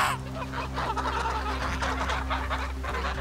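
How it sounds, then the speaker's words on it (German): Domestic geese on a farm in September give off a busy run of honks and cackles, steady and fairly close, over a constant low hum with no talk. "Die Gänse sind herangewachsen."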